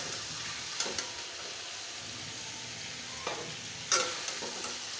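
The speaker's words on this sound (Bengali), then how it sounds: "মাংস এভাবে ভেজে নিব, হালকা হলুদ দিয়ে ভেজে নিচ্ছি" Chicken pieces frying in oil with a little turmeric give a steady soft sizzle, with a few louder stirring scrapes near the start and toward the end.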